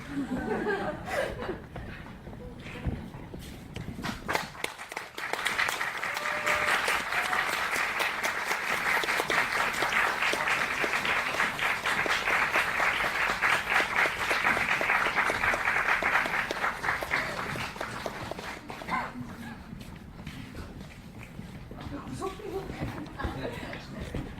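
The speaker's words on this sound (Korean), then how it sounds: "들어오시면 큰 박수 부탁드릴게요." An audience at a film screening talk event gives sustained, lively applause as the actors walk in, with scattered chuckles, and a host's voice is heard before and after.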